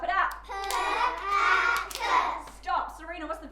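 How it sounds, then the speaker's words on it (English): Children clap out the syllables of words like "pack" in a literacy lesson, a few sharp claps marking each beat, their voices close and clear. "The word is pack. Clap it out."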